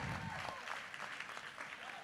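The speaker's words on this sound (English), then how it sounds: "Clap it up, the PACEmakers." An audience claps for a pitch team at a college competition, a steady patter of hands fairly quiet in the room with a voice talking over part of it.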